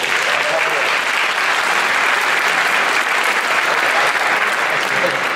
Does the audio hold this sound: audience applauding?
yes